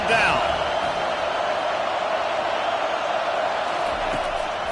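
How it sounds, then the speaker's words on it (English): Home crowd noise in the NCAA football video game swells as a broad, steady roar throughout during a third-down defensive play, with no distinct bursts or peaks standing out. "Here comes this home crowd as the defense tries to get off the field on third down."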